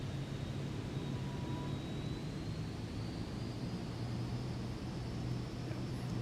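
An airplane engine in Microsoft Flight Simulator 2024, flying over the Rocky Mountains with flaps and gear extended, gives a steady close drone with a faint whine that slowly climbs in pitch.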